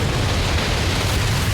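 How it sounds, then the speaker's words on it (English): Deep, continuous roaring rumble of an avalanche crashing down a mountain in Alaska in the early morning, dense and loud throughout with booming, explosive low-end churn and no let-up. "There's a sickening, cracking rumble, explosions, boom."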